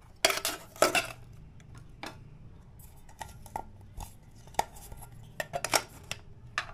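A Naturehike camping pot set is closed with a spork packed inside, giving close, bright metallic clinks and clatters. The sharpest knocks come early, followed by a scattered series of lighter taps and rattles.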